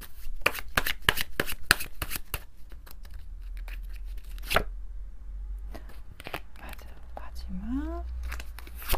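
Tarot cards being shuffled and drawn, a quick series of crisp slaps and riffles close to the microphone. A soft voice talks at intervals between the card sounds.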